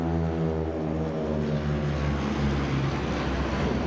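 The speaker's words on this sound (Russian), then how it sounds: "Проходят военно-транспортные самолеты Ан-72." Antonov An-72 military transport aircraft flying past over St. Petersburg during a naval aviation parade, a loud, steady jet engine roar with strong harmonic drone that fills the whole stretch.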